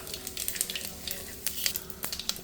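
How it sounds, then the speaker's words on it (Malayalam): Mustard seeds and cumin crackle and sizzle in hot oil, a close steady fizz with quick sharp pops scattered throughout. "തിളച്ച എണ്ണയിലേക്ക് കടുക്,"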